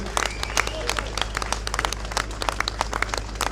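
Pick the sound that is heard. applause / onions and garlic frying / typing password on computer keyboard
applause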